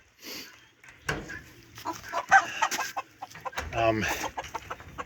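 A lemon blue rooster and red brown hens cluck and call nearby in a breeding pen, with a series of uneven clucks and squawks, some loud and close.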